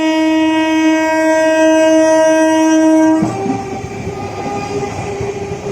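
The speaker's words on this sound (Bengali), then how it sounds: "দেখো এটি একেবারে একটি রিয়েলিস্টিক একটি রেল।" A toy train sounds a loud, steady electronic horn for about three seconds, then breaks into a rattling clickety-clack of wheels on track, heard close up with no voices.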